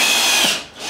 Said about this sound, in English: Power tools and stuff like that.